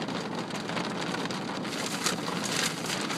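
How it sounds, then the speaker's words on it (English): Heavy rain pours down steadily, a dense, even hiss of drops hitting surfaces with a few slightly louder splashes, fairly quiet and continuous with no voices. "Good Lord, it's raining very hard."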